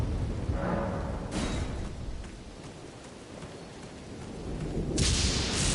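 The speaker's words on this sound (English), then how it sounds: "and then they summon more lightning." Summoned lightning strikes crash in Elden Ring, with a loud broadband crackling burst near the start and another near the end, over a steady rumbling, rain-like wash of storm noise.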